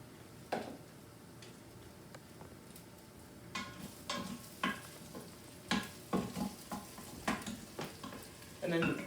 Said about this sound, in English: And then I'm gonna put in the ginger and garlic.